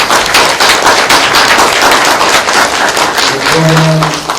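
Loud, dense applause from a university student audience at a political party talk concert in Jeju, many hands clapping steadily and close, sustained throughout, with a faint voice emerging near the end.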